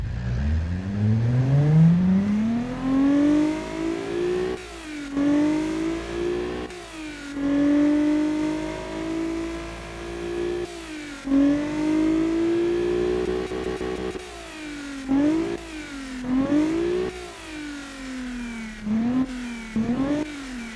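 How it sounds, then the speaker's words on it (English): A video game car's 370 V6 engine revs up from idle and holds a steady drone, then blips and revs repeatedly in short bursts, loud and close with no talking. "Let's see if this actually if this engine actually sounds like the 370 V6 engine."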